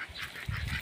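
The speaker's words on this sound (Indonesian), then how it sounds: "ini bebeknya guys, ini bebek" Ducks at a duck pen, a brief nasal quack or honk heard at moderate distance, alone without talk.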